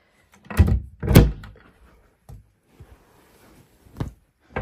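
Closet doors in a stitching room swing shut with two loud, close thumps in quick succession, followed by a few softer knocks and bumps, then another sharp closing thud near the end.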